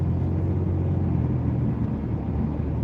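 A car's motor hums quietly during driving, with a smooth, steady low-pitched drone and road rumble and no other sounds standing out.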